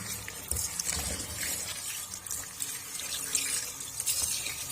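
Finely chopped bathua leaves are washed by hand in water, with soft, continuous sloshing and splashing that stays fairly quiet throughout and has no talking.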